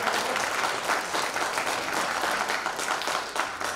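An audience at a school baseball support association year-end evening applauds with a dense, steady burst of clapping that fills the whole stretch, close and loud.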